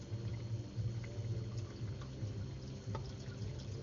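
Liquid, about two cups, is poured steadily into a bowl of custard powder and sugar for microwave custard, a soft continuous trickling with a low rumble beneath.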